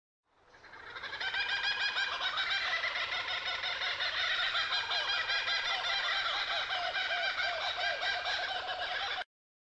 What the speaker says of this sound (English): Kookaburra.